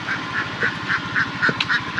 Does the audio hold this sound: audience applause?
no